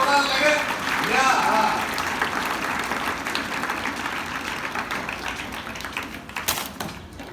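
Students at a school assembly clap together loudly, a thick sustained burst of applause that gradually thins toward the close, with a few voices mixed in.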